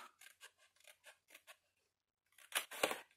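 Scissors snip through card for a box in a quick series of short, crisp cuts, then a pause and a few louder, rougher cuts close by, with no talking.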